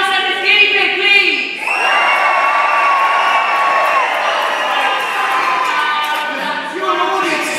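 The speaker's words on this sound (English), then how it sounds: "So can we really scream for Giles and his guinea pig, please?" A stage show audience screams and cheers for a man named Giles and his guinea pig, a loud sustained roar of high-pitched shrieks that swells after a voice and fades near the end.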